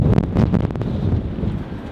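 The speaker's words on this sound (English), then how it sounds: "I'm gonna get out of the wind here" Outdoor wind buffets the microphone in low, rumbling gusts, loud and close, with a few brief flutters early on before settling into a steady roar.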